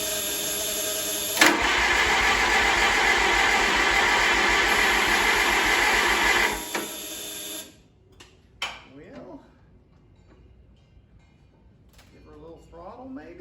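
An Oliver 550 tractor engine cranks and catches with the choke pulled, running loud and steady for about five seconds before cutting out, followed by quieter clunks and brief talk.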